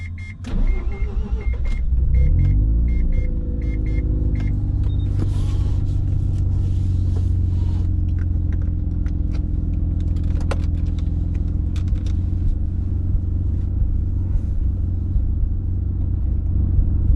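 A Mazda FD RX7 engine cranks briefly and then fires, settling into a steady idle with a low, constant rumble close by, and a few light clicks over it.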